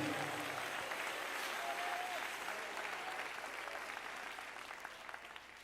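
Congregation applauding in praise of the Lord at a Spanish-language evangelical church gathering, a steady dense wash of clapping that fades slightly toward the end.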